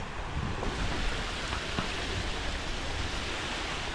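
Rain falling steadily outdoors near an ancient temple with hot water springs, a soft even wash of fine drops with no voices, fairly faint and continuous.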